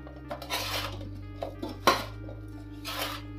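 Metal spoon scraping and clinking against a pot while amla pieces are stirred with sugar for sweet amla candy, a few sharp knocks and soft scrapes close up over a low steady hum.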